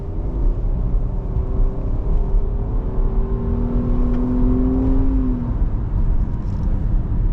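A Nissan Murano V6 engine accelerates while driving, a steady in-cabin drone with a rising engine note that climbs for several seconds over road noise, then drops off.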